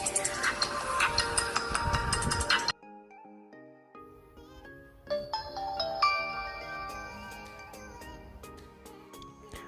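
A smartwatch's find-phone feature makes the paired phone ring: a bright, busy burst cuts off sharply, then a melodic electronic ringtone chimes in clear, tinkling notes that build and repeat for several seconds.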